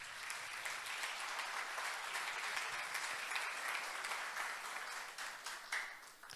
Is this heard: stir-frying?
no